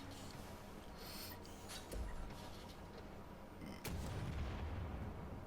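Gunfire in Wolfenstein: The New Order on Uber difficulty in Camp Belica, a machine gun firing into a room: a low, steady rumble of shooting with louder bursts near two and four seconds, fairly faint overall.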